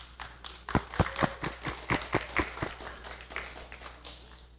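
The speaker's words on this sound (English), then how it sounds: "Give applause, everyone." Scattered audience applause at an architecture conference, a smaller group clapping with distinct individual claps audible over a low background hum, lasting a few seconds.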